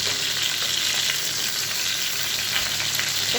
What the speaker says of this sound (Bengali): বৃষ্টির ভিতর আমি এখানে কোফতা ভাজা করছি